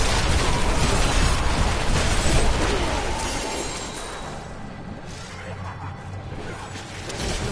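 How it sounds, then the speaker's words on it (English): Corpse explosions from a Death Nova Necromancer in Diablo III on PS5 burst in a dense, loud barrage of crashing, shattering game effects that gradually thin and soften toward the end. "having the corpse explosion is much better"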